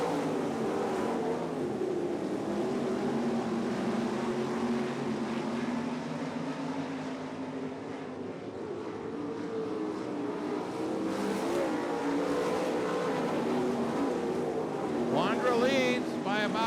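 Dirt track race cars roar around the track in a steady, continuous engine drone that rises and falls, with a loud announcer calling the race over it throughout.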